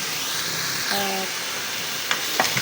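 Papaya and leftover chicken sizzle steadily in a pan while being stirred, with a brief clatter of utensil scrapes near the end; a faint tonal hum sounds briefly in the middle.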